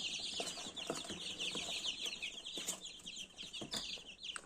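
Chicks and chickens of a meat-and-egg cross cluck and peep continuously in crowded brooder boxes, a dense overlapping chorus of high chirps with occasional louder clucks, close by.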